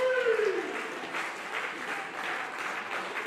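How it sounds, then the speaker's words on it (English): Wrestling crowd cheering and applauding for Delilah during a Vixens women's match, a steady wash of clapping and roar filling the arena, with a brief whistle-like tone at the start. "Crowd doing their job, getting behind Delilah."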